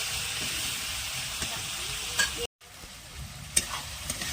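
Tomatoes with masala cooking in a pan, giving a steady soft sizzle and hiss with a few light stirring scrapes and a brief dropout in the middle.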